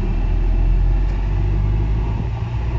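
Air conditioning blows inside a car on a hot summer day, a steady, loud, even rush of air over a low engine rumble with no talking.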